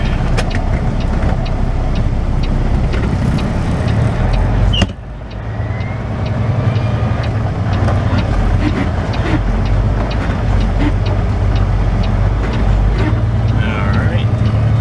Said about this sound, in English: This is a busy little road.